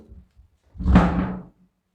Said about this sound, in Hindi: तो बॉक्स को रख देते हैं साइड में